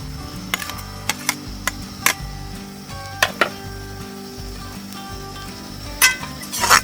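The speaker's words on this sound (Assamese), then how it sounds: "এতিয়া আমি আদা ৰহুন জ্বালাখিনি দি দিম।" Ginger garlic paste frying in a pan over an outdoor riverside fire, a soft continuous sizzle broken by sharp ticking pops and a few clinks of the utensil.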